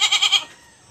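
A crossbred goat bleats close by in a quick, wavering burst of four pulses, then falls quiet.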